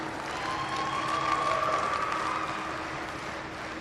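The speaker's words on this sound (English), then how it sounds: "let's go ahead and give them a big round of applause" Audience at a county fair junior goat showmanship class giving a round of applause, a steady wash of clapping that holds at moderate level over a few seconds, with a faint whistle-like tone above it.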